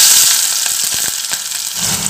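Small shallots frying in hot coconut oil, a loud steady sizzle with crackling pops close up, no one talking.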